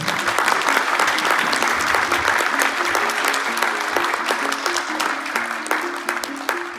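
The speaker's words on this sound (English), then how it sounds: "Let's get a quick round of applause for everyone." A convention crowd at a furry fest panel gives a sustained round of applause, loud and even, with a faint tonal hum running underneath.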